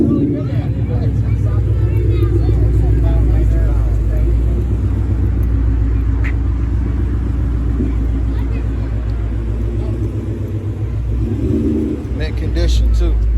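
A 1980s Ferrari 348 TS with a gated shifter rumbles in a deep, steady idle as it backs into a spot at a suburban car show, the low engine note loud and continuous throughout.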